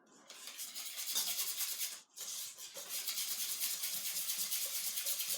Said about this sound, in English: Now whisk that all together. Get that butter incorporated.